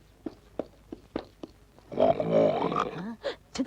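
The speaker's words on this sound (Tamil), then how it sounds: "இங்கதான் உருமல் சத்தம் கேக்குது." A tiger growls in a film scene with a low, drawn-out rumbling roar that swells for about a second. Sharp, evenly spaced knocks come before it, and brief rough bursts follow.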